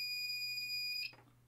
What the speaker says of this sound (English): you hear that there's a beep there. That shows that there's continuity.